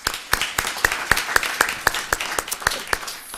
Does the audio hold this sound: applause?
yes